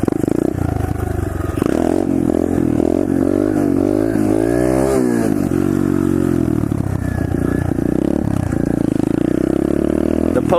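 A pit bike engine revs and drops during a wheelie, its tone climbing and sliding in pitch, loud and close with rattling clatter and wind, while a voice talks over it.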